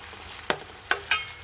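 Mushrooms fry in hot oil in a curry pan with a soft, steady sizzle, broken by three brief scraping stirs, close and fairly quiet with no talk.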